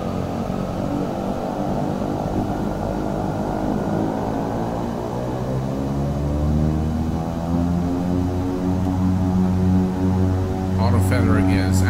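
Twin turboprop engines of an Embraer EMB-110 in a flight simulator, a steady droning hum that swells as power is slowly advanced on the runway, loud and continuous with a whine creeping in near the end.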